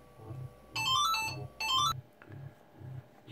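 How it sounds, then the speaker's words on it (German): Telephone ringtone from the MadTV video game, two loud bursts of bright electronic trilling rings over a soft repeating low musical loop. "ihr hört immer nur die dämlichen Klingeltöne"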